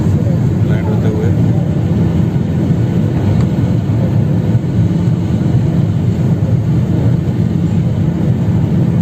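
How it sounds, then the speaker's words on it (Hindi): SpiceJet passenger airplane landing at Darbhanga, heard from inside the cabin as a loud, constant roaring rumble of engines and airflow that holds steady throughout. "लैंड होते हुए"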